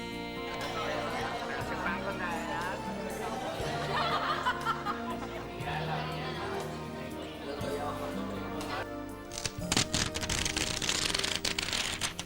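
A group of people talk over one another in lively, overlapping conversation with occasional laughter, ending in a burst of clattering and louder chatter.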